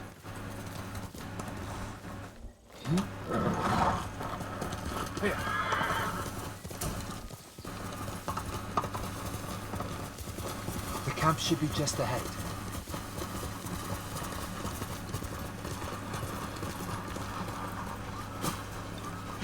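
Horse in the samurai video game Ghost of Tsushima, with hoof clip-clops and a whinny over game ambience and music, while a character speaks briefly.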